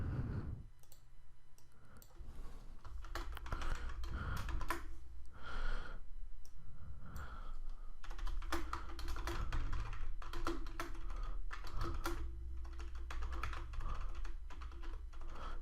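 Rapid, uneven typing on a computer keyboard, close and clear, with bursts of clicking keystrokes and short pauses continuing steadily throughout, no talking.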